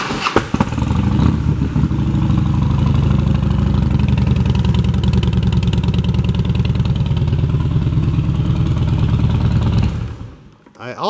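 A 2011 Harley-Davidson Dyna Wide Glide with Vance & Hines exhaust idles steadily and loudly up close with a deep, lumpy rumble before cutting off near the end.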